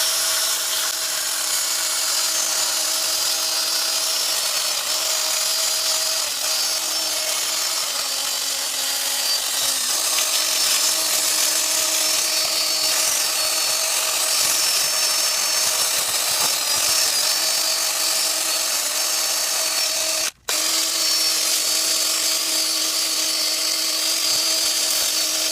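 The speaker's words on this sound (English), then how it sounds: "We're gonna use this little metal brush with a drill to clean the" A small metal wire brush spun by a power drill scrubs carbon buildup from the intake runner walls of a 2008 VW Audi 2.0T TSI manifold, giving a steady, loud, continuous whirring grind with one brief cut-out near the end.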